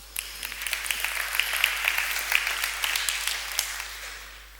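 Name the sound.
round of applause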